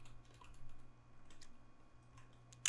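Light computer keyboard typing, a few soft key taps spread over a couple of seconds with a sharper click at the end, close and fairly quiet over a low steady hum.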